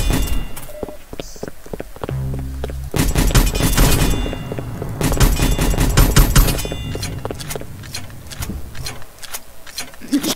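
Gunfire in the Roblox game Randomizer, rapid bursts of close shots and thumping impacts that come in quick clusters over a busy game soundscape, with a voice talking now and then.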